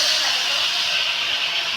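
Vegetables, including eggplant, frying with turmeric in a pan give a steady, loud, even sizzle that runs without pause and with no voices.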